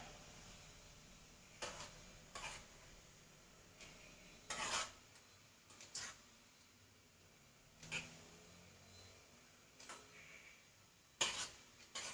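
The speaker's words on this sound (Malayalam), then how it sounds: "നമുക്ക് ഈ സ്പൂൺ കൊണ്ട് ഇങ്ങനെ തട്ടി കൊടുക്കാം" A spoon taps a dish of ragi mixture, giving light, sharp clinks spaced a second or two apart amid faint scraping, close and fairly quiet with no talking.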